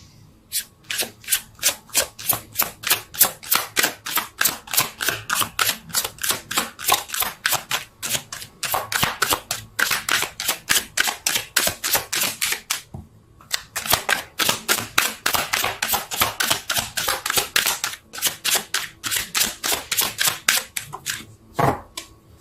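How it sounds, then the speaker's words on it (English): Rapid riffling and snapping of tarot cards being shuffled, close and crisp, in two long bursts separated by a brief pause. "Let's see if I can shuffle."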